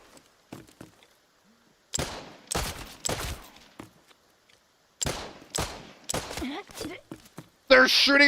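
Gunshots in a shooter video game come as sharp, loud bursts and single cracks separated by quiet gaps, with a voice speaking between the shots.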